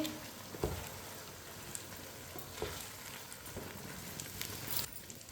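Finely chopped tomatoes tipped into a hot frying pan and stirred in, giving a continuous crackling sizzle with a few sharp scrapes and clatters of the spoon, close and with no talking.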